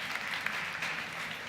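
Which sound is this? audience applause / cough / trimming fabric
audience applause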